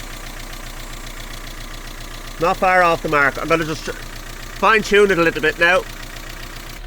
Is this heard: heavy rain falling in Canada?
no